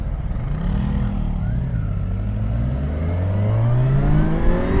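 A Kawasaki Ninja 650 two-cylinder motorcycle engine revving up, its pitch climbing steadily as it accelerates, close and loud with a buzzy, rising whine.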